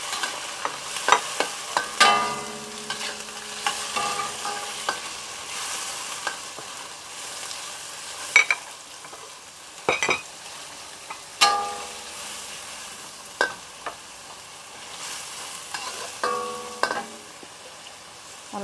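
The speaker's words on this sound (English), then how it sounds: "so we add in the prawns" Freshwater prawns sizzle in a hot pan with browned garlic and ginger, a steady frying crackle broken by repeated scraping and clattering stirs of a utensil against the pan, close and fairly loud.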